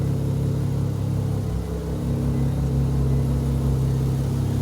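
A Mazda RX7 rotary engine with a holed radiator runs loudly and steadily after restarting, a thick low rumbling idle that dips briefly before evening out, with no voices.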